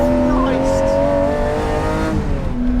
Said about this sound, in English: with that custom exhaust it sounds exactly like a Formula 1 car